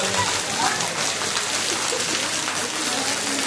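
Steady, dense rain hisses throughout, a constant wash of drops with no pauses.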